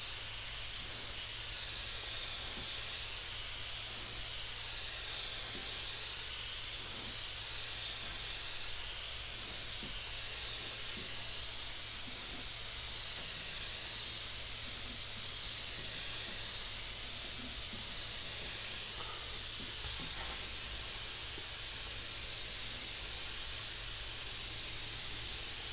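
A spray gun continuously hisses as candy paint coats go on over a chrome flake base, a steady unbroken airy spray that sits close and even for the whole stretch with no talking.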